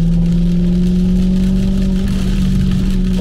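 A supercharged BMW 645 with a manual gearbox warms up at a steady idle, giving a loud, close, continuous engine hum with a faint whine on top. No one speaks.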